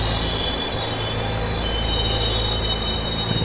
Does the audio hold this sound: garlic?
no